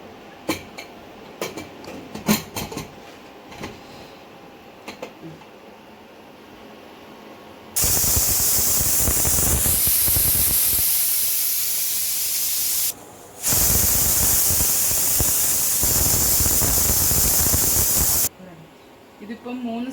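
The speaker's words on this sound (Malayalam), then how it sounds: "ഇതിപ്പം 3 സിറ്റി വന്നിട്ടുണ്ട്." A pressure cooker holding khichdi vents steam in a loud, sustained whistling hiss that runs about five seconds, drops out for a moment, then returns for roughly five more, after a quieter stretch of faint kitchen noise.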